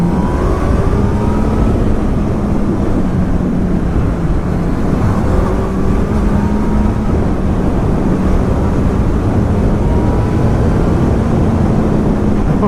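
A 2019 Honda CB1000R Plus with a Termignoni GP2R exhaust drones steadily while being ridden, its engine note rising and falling slightly beneath loud, constant wind rush.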